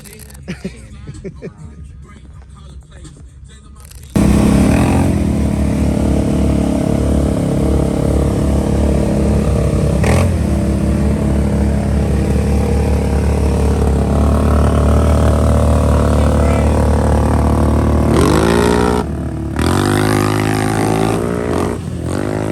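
A Can-Am off-road vehicle engine starts up loud and close, then holds a rough, throbbing idle with revving swells for most of the stretch before dropping back briefly near the end. Faint voices are heard at the start.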